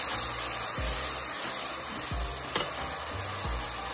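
Ginger, garlic and green chili paste frying with golden-brown onions for stuffed bell peppers: a steady broadband sizzle with low scraping stirs about every second, fairly loud and close, no talk.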